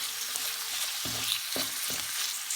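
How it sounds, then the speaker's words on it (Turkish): Minced meat sizzles and fries in a pan with onions for an eggplant börek filling, a steady loud crackle broken by a few soft stirring scrapes. "İçerisine 150 gram kadar kıyma ilave edip kavuralım."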